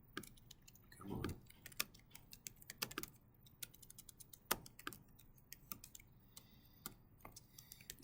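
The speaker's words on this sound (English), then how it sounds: "and then you just start typing." Someone types on a computer keyboard, faint irregular clicks and taps with small bursts and pauses, quiet and close, with no talking.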